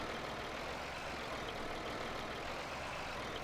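A tractor engine idles in the Farming Simulator 19 video game, a steady low droning rumble with constant loudness throughout, no voices over it.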